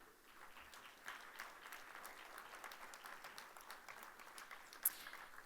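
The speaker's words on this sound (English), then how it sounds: "keep those claps coming" At an Illinois Democratic attorney general candidates forum, an audience claps steadily for the candidates as they are introduced, a faint, distant patter of applause with a few sharper claps near the end.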